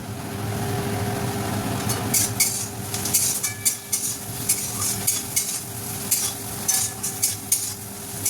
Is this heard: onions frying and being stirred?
yes